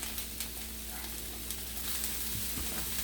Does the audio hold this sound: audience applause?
no